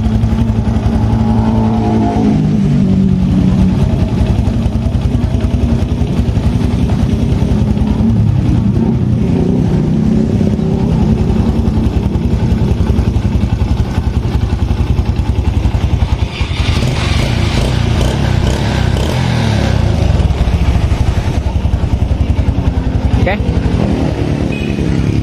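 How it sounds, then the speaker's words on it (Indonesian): A Yamaha Jupiter Z motorcycle engine with a worn crankshaft bearing runs loud and close, revving repeatedly with a rough, knocking undertone, while someone talks over it throughout. "suara ada gruk gruk gruk glek glek glek itu dari bearing kruk as kanan dan kiri"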